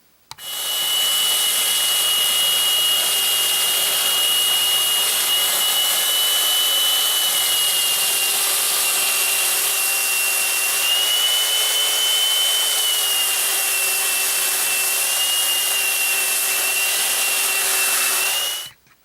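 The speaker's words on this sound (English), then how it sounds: "I'm going to sand down, using a belt sander, I'm going to sand down these sides here" Belt sander grinding down the wooden sides of a cheese slicer, a continuous loud high-pitched whine and abrasive hiss holding steady for the whole stretch, then stopping abruptly.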